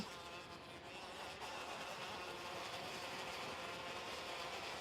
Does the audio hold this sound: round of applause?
no